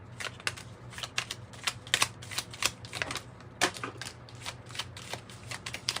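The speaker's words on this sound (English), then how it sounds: "I'll pull these little oracle cards for you." Oracle cards are shuffled by hand in a rapid series of crisp riffling snaps and taps, close and fairly quiet, over a faint low hum.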